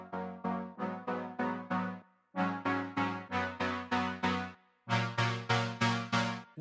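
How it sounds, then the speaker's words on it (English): Synth brass part in a pop production, punching out rhythmic repeated chord stabs in three short bursts that build momentum toward a chorus, clear and upfront with no voices. "there's 2 brass instruments. Here's the first one."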